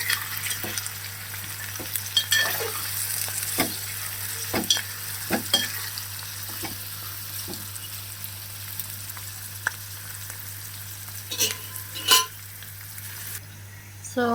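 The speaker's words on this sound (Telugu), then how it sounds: "చేపల పులుసుకి కలుపుకోవడానికి మీకు వీలున్నట్టుగా గరిటె తీసుకోవాలి." A ladle stirring Telugu-style fish curry in a pot, soft scraping and sloshing strokes that come in irregular bursts over a faint steady hum.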